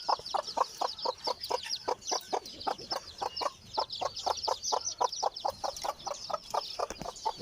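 Red junglefowl chicks and crossbred chicks cluck and peep in a quick, steady run of short calls, close by and continuous, with a faint high chatter behind them.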